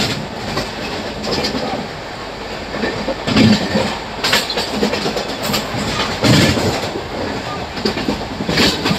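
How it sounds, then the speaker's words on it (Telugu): An AC superfast express train crosses at speed near a railway station, a loud continuous rushing rumble with rhythmic wheel clatter and bursts of louder passing noise. "AC super fast express 130 crossing అండి బాబు"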